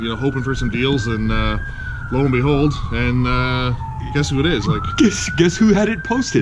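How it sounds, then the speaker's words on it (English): Emergency vehicle sirens wailing in the background in Chatham, a steady rising and falling tone running beneath continuous conversation between men. "You can hear the sirens off in the background."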